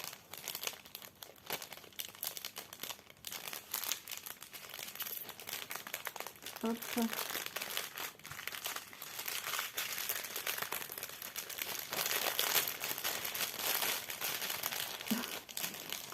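Small plastic bags crinkling continuously at close range as diamond painting beads are put back into them, a dense rustling that runs throughout, with one brief spoken interjection.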